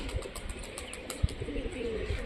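Rajshahi Giribaj pigeons give low, soft cooing close by, with a few light wing flutters and taps in a short, fairly quiet stretch.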